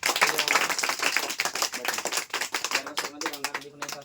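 Children in a school classroom clap loudly together in a dense, steady burst of hand claps that carries on without a break, with voices mixed in near the end.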